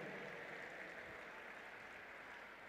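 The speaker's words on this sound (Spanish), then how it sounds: "Y el aplauso para nuestro bailarín" A crowd applauds a male dancer at a live music show, a steady wash of clapping held at an even, moderate level throughout.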